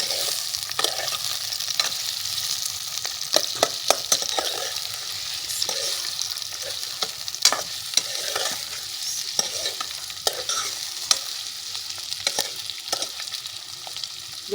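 Onions fry in oil in a pan while being stirred for a karela and chana dal dish. A steady close sizzle runs throughout, broken by frequent clinks and scrapes from the stirring, with no talking.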